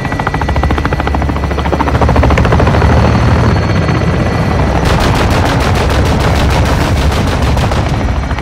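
Gunfire in Call of Duty Modern Warfare II: loud, sustained rapid machine-gun bursts over a steady helicopter-like rotor drone, the shots turning sharper and evenly spaced in the second half.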